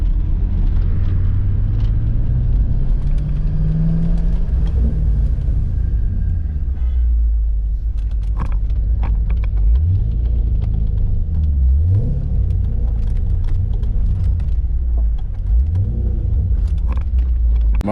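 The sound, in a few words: Ford Mustang with straight pipe exhaust revving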